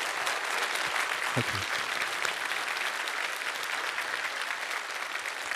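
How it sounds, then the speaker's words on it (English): Audience applause fills a hall after a C++ conference talk, a steady, dense wash of clapping throughout, with a brief spoken word near the start. "the speaker deserves a nice applause."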